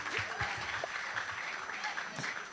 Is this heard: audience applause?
yes